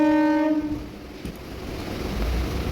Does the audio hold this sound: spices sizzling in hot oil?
no